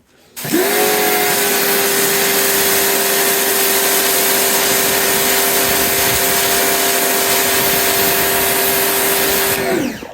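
A pressure washer set to full pressure sprays onto a patio, producing a loud, steady motor drone and hiss that starts abruptly, holds evenly for about nine seconds, then cuts off, with no talking.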